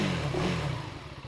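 A 2025 KTM 390 Adventure motorcycle's single engine revs at medium revs close up, a brief rough throb that rises slightly and then eases, with no talking.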